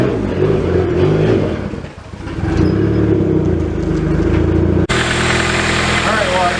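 A Honda Prelude engine runs steadily while warming up, a loud, close, low droning hum that briefly dips before a sudden cut to a brighter, noisier idle, with some talking over it.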